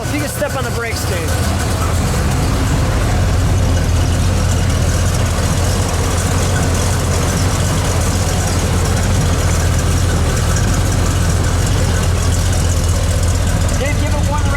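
Deep, steady idle from a 1973 Plymouth Road Runner GTX 440 V8 running indoors, a loud continuous low rumble holding for the whole stretch with voices faintly underneath.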